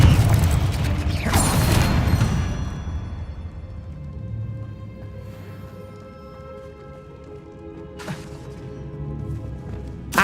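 A Confringo blasting spell goes off in the video game Hogwarts Legacy with a loud, crashing explosion whose debris rattles and fades, and a second, smaller burst follows near the end.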